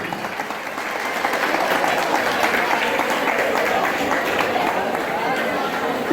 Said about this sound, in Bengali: হাততালিটা একটু জোরে হবে